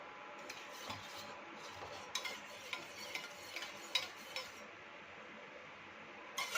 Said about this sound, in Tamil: இப்போ இந்த வாட்டர் பேஸை இந்த ஆயில் பேஸ் கூட மிக்ஸ் பண்ணுறோம்